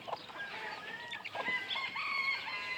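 White hackle chickens in a backyard flock cluck and call, several bright overlapping vocalizations at moderate distance against a steady outdoor background.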